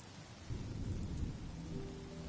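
Rain pours steadily while deep thunder rumbles in the Honkai Star Rail game on PS5 Pro, the low roll swelling after half a second and continuing under the constant hiss of rainfall.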